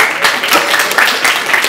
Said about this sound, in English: could you clap again, please?